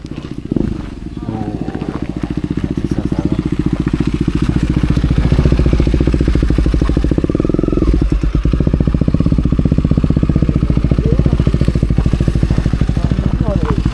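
A dirt bike engine revs up near the start, then holds a loud, steady buzzing drone as the motorcycle is ridden close by.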